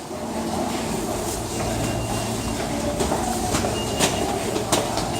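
Rumbling train noise at a train station, with rhythmic clicks and faint squeals of wheels on rails, steady and fairly close, no voices.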